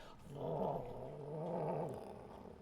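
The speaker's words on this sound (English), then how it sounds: "As you do, you hear growling immediately." Low, sustained growling from goblin-like dogs in a tabletop role-playing game rises and falls for about two seconds, close and rumbling, then fades out.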